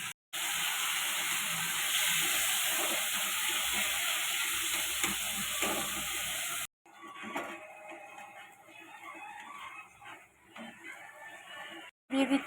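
Hog plums and dried chili dropped into hot oil with five-spice for an amra chutney, giving a steady, loud sizzle that cuts off abruptly, followed by quieter, uneven frying and stirring.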